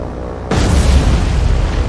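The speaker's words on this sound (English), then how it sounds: "Big boom, big boom, big explosion." A bomb explodes in the War on the Sea naval combat game, striking a ship, a sudden loud close boom that cuts in and holds as a heavy, rumbling roar.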